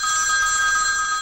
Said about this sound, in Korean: 전화벨이 울렸다